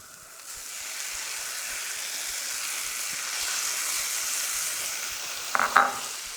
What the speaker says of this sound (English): In a cast iron skillet under medium heat, we're gonna add the avocado oil, then the jackfruit,